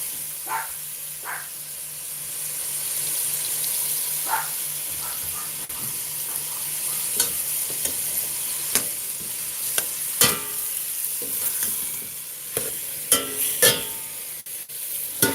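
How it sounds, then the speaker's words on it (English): Steady hissing sizzle of cubed beef skirt steak frying in a pan, with scattered clicks and scrapes of stirring, close by and fairly loud. "We're just going to fry that up."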